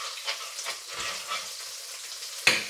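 Prawn fettuccine sauce with truffle oil being stirred in a pan, a soft steady sizzle with scraping spoon strokes throughout and a sharper clink near the end.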